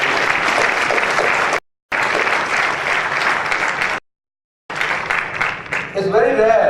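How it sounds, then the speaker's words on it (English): An audience at a graduation convocation at ITS Ghaziabad applauds the graduating students, sustained loud clapping broken by two abrupt silent cuts. "A round of applause for all of you for your achievement"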